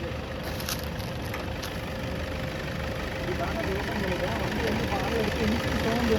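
A Toyota Innova engine idles steadily with a low, even rumble and a thin high whine, close by, with faint talking in the background.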